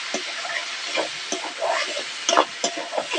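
Mushrooms sauté in spice paste in a pan for a village-style mushroom curry, giving a steady broadband sizzle and hiss broken by irregular scraping stirs and clinks, close and fairly loud with no voices.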